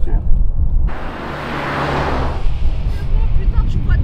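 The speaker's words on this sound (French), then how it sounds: "Voiture." A car passes by on a road, a broad rushing swell that builds and peaks near mid-clip over low rumble, with people talking around it.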